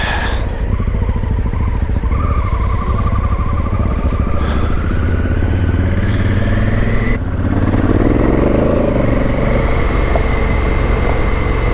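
Motorcycle riding along a country road by the Clarence River on an overcast day, engine droning steadily and loud throughout with shifting revs and rushing wind, no talk.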